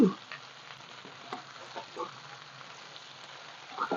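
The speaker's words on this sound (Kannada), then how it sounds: "ಇದನ್ನು ಗ್ಯಾಸ್ ಸಣ್ಣಗಿಟ್ಟು ಕುದಿಸ್ಬೇಕು ನೋಡ್ರಿ" Raw mango pieces with jaggery, salt and spices simmering in a pan over low gas, giving a soft steady bubbling sizzle with a few light clinks at the start and end, no talking.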